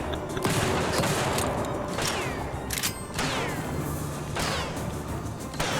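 Repeated loud shotgun blasts from the video game TimeSplitters Rewind, several sharp bangs spaced about a second apart, each followed by a clattering ring over constant background noise, no talk.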